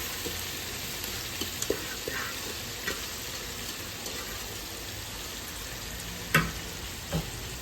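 Sliced onions frying in groundnut oil for a large batch of chicken biryani give a steady, close hiss of sizzling throughout, with a few sharp clicks and taps of stirring and no voices.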